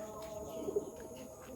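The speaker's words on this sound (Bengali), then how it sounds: "কবুতর" Pigeons cooing at a resort, soft low rounded coos close by, with a voice faintly present underneath.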